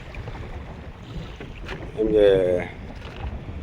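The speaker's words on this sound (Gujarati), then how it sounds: "આજે પાછો પવન વધારે છે" Strong sea wind aboard a small fishing boat, a steady, close, breathy rush with muffled buffeting and a brief louder swell near the middle, while someone speaks briefly.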